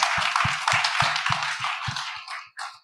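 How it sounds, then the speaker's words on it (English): A few people clap at a startup pitch night, about ten distinct claps at a steady rhythm. The claps thin out and trail off toward the end, sounding fairly close and sparse rather than like a full crowd. "I want you all to give yourselves a round of applause to start"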